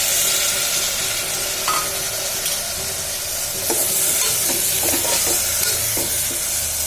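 Mixed vegetables sizzle steadily in a hot pan for a rice dish, a loud, continuous broadband hiss and crackle up close, with a few faint clinks of stirring underneath and no voices.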